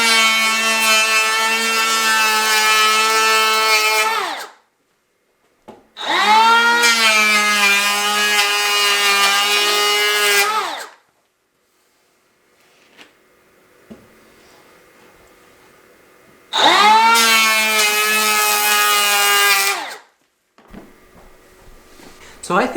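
A DeWalt 20V cordless brushless planer makes two loud whining passes across a wood board, each a steady high-pitched buzz lasting several seconds, separated by quiet gaps; a third burst follows after some faint handling clatter, with no speech.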